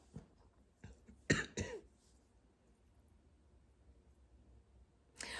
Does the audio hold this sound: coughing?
yes